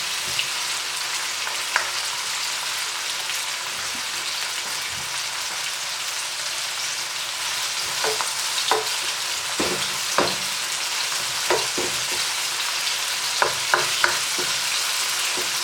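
Seasoning for ackee and saltfish fries in oil over moderate heat, giving a steady close sizzle with occasional stirring scrapes and pops.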